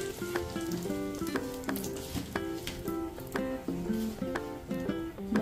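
Asafoetida and spices sizzle steadily in hot oil in a pan, a close, continuous frying hiss with sharp popping crackles throughout.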